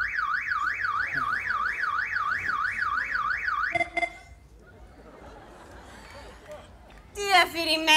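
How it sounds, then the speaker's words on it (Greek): A car alarm wails with a fast rising-and-falling siren for several seconds, then stops. A short, chirping alarm burst follows near the end, with faint voices in between. "Έχει βάλει συναγερμό ο άντρας μου."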